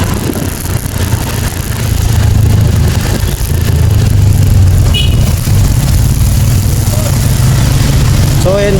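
A Honda Beat scooter with three years of age and 7,000 km on the odometer runs its engine close by. It makes a steady low hum that is loud and continuous, with a few faint high chirps near the end.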